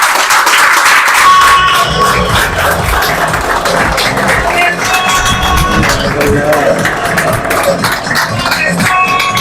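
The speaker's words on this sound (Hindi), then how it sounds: "आपकी भरपूर तालियों में" Applause and clapping from an audience at a diploma award ceremony as a candidate comes up to receive his certificate, steady and fairly loud throughout, with some voices mixed into the crowd noise.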